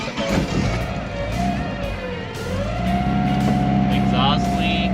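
Datsun 620 pickup truck with a KA24E engine and a swapped transmission drives along, its engine droning with shifting pitch, exhaust-leak puffing and a whining throwout bearing, with someone speaking over it.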